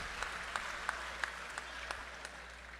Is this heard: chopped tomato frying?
no